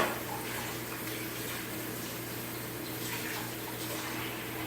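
Kitchen tap runs steadily as a knife is washed under the water, a constant even splashing rush close by with no talking.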